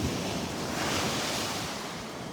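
Ocean surf breaking steadily on the beach at Delnor-Wiggins Pass State Park in North Naples, Florida, on an overcast morning with the tide going out, a continuous loud wash with wind noise on the microphone.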